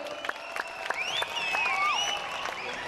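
Scattered applause from a small stage-show audience, with whistles or squeals sliding over the clapping; fairly distant and moderate in volume.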